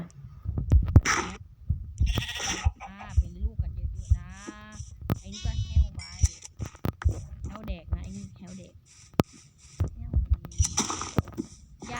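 Minecraft sheep bleat repeatedly among clicks and thumps of gameplay, several short wavering cries spread through the stretch, with a voice talking throughout.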